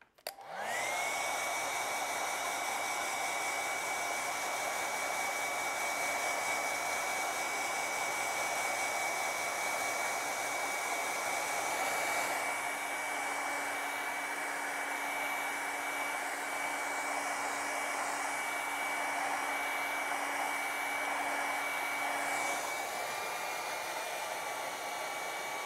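A hair dryer blows steadily on a wet acrylic winter painting of a chickadee, a loud continuous whir running unbroken for the whole stretch with a slight shift in pitch midway and no talking.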